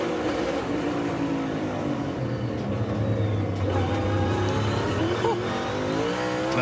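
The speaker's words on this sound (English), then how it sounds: "Just listen how hard he gets on the brakes." A NASCAR stock car at the 2023 EchoPark Automotive Grand Prix brakes hard into a corner, its loud, dense engine roar droning and shifting pitch continuously close up, with faint commentary underneath.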